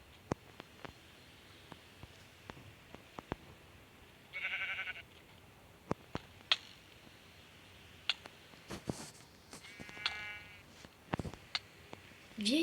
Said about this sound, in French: Oui, voici un autre mouton.